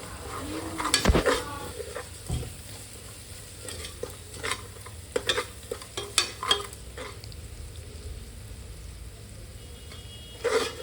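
Masala frying in oil for kushka rice, a low, steady sizzle broken by repeated clinks and scrapes of a spoon against the pot, with a louder clatter near the start.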